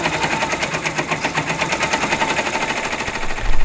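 A Brother PR1055 multi-needle embroidery machine stitching out a design on a reading pillow blank, a rapid, even mechanical chatter of needle strokes running steadily and close, with a low thump at the very end.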